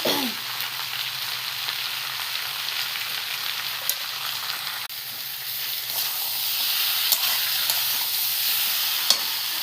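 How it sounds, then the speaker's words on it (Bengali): Meat frying in a pan with salt and turmeric, a steady hissing sizzle that holds throughout with faint clicks from stirring, close and without talk. "ভালো করে কষায় নিই মাংসটাকে"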